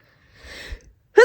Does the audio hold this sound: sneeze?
yes